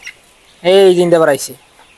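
A single close layer chicken call on a poultry farm, a short burst of throaty clucking that rises and falls, then quiet.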